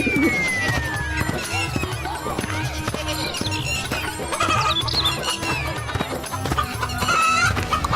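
Chickens cluck and squawk over a busy backdrop of music and voices, the clucks coming in short bursts.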